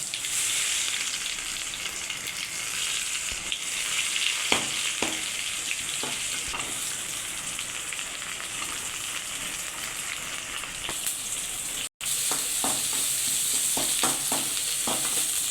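Ginger and garlic frying in hot oil with mustard seeds and cumin make a continuous, fairly quiet hiss and crackle, with occasional light pops and a brief break near the end.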